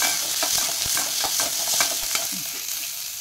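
Small onions sautéing in groundnut oil for a cauliflower gravy, loud close sizzling broken by repeated scraping stirs of a spoon against the pan, with no talking.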